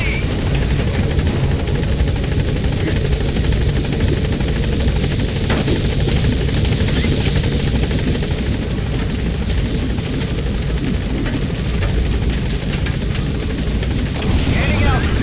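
Video game helicopter from Metal Gear Solid V gaining altitude, a loud, continuous rotor thump and engine roar close by, with a radio voice speaking over it.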